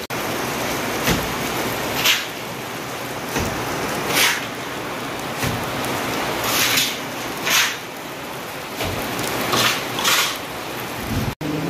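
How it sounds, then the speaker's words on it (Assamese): Sudden heavy rain falls at a house under construction in Nalbari, Assam, making a dense, loud, continuous hiss with periodic swelling bursts and no talk. "তো বতৰটো হৈ গ'ল বেয়া মানে আহি গ'ল বৰষুণ"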